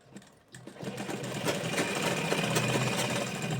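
A sewing machine stitches a ladies' palazzo pant, starting after a brief pause and then running in a fast, steady mechanical whir close by.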